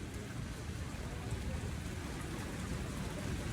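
Steady rain hisses across the streets of Midtown Manhattan on a wet November day, a soft even wash with no breaks and faint city murmur beneath.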